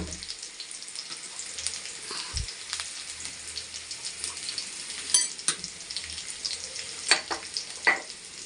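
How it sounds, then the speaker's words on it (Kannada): Grated beetroot frying in oil in a pan for beetroot palya, a soft steady sizzle with a few sharp spatula clicks and taps toward the end, fairly quiet and without speech. "ತುರಿದಿಟ್ಕೊಂಡಿರ್ತೀವಲ್ಲ ಬೀಟ್ರೂಟ, ಅದನ್ನು ಸೇರಿಸ್ಬಿಟ್ಟು ಮತ್ತೆ ಎಣ್ಣೆಲ್ಲೇ ಫ್ರೈ ಮಾಡ್ಕೋಬೇಕು."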